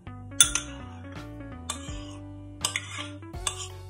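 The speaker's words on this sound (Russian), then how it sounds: "В яйцо добавляю щепотку соли и 250 мл сгущенного молока" Salt and condensed milk go into egg yolk in a bowl, heard as a few light clinks and taps of utensil on bowl, spaced out over a steady low background hum.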